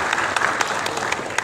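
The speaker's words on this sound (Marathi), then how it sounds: "टाळ्यांचा गजर" Audience applause at a birthday felicitation event with a local political leader, a short burst of steady crowd clapping with individual claps standing out.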